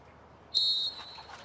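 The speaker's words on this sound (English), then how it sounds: "den Hervel, the captain of the Netherlands, waits for the whistle." A referee's whistle at a women's field hockey World Cup semi-final between the Netherlands and Australia gives one sharp, steady blast of about a third of a second over a quiet stadium murmur.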